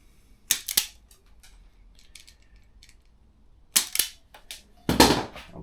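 Cutters snip and strip the battery wires on a Suzuki GP100 motorcycle, making a few sharp, close snaps: two quick ones at the start, then a pause, then two more near the end.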